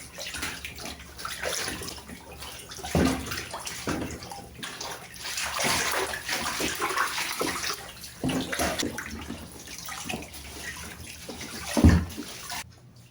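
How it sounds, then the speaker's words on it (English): A fabric lampshade from a thrift store lamp is swished and sloshed through a tub of water, giving continuous close splashing and swirling with a few heavier sloshes, no voices. "Take our shade and just take it and swish it in the water."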